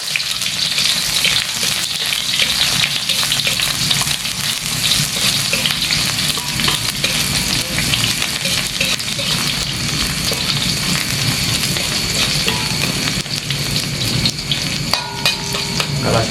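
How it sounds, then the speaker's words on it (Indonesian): Water spinach sizzles steadily as it is stir-fried with shallots and garlic in hot oil, a loud, continuous crackle and hiss with occasional stirring clatter and no talking. "Kita goreng kangkung, numis kangkung."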